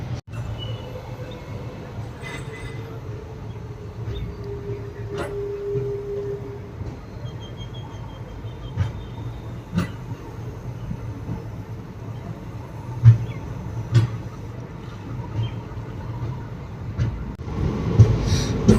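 A passenger train pulls away from Mayiladuthurai Junction, heard as a low rumbling drone with intermittent clanks and knocks from the wagons, a brief sustained horn-like tone, and louder bumps toward the end as it gathers movement.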